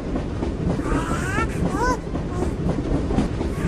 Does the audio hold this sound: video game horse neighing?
no